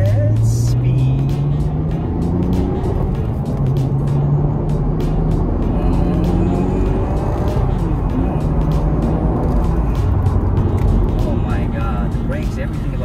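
A Nissan GT-R R33 V-Spec sports car cruising fast on a highway, its steady engine and road roar continuous and loud from inside the cabin, with occasional voices talking over it.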